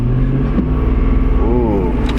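A 2003 Ford Thunderbird's V8, likely the 4.6, idles close by with a steady low rumble and a brief rise in pitch partway through.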